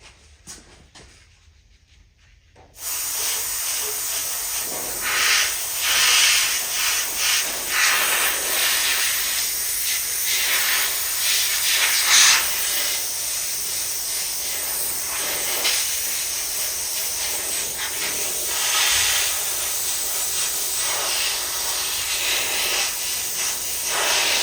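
An airbrush sprays paint while dragon scales are being painted, a continuous close airy hiss that starts after a short quiet pause and runs steadily with slight surges and dips throughout.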